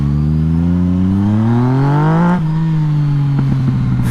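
A Kawasaki Z900 motorcycle with an 847cc engine revs upward in one long rising climb, then drops back to a steady idle-like drone with a few sputters, loud and close.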